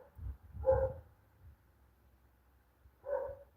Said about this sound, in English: that dog is probably hearing me and barking